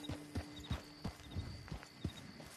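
Horse hooves clip-clop at a steady walking pace in Red Dead Redemption, about eight evenly spaced, fairly close thuds with no talk over them.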